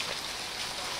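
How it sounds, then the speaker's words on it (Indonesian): Light drizzle falls steadily on a misty stone staircase at a scenic tourist spot on Rote Ndao, making a soft, even hiss with no talking. "Ini dalam keadaan rintik ini."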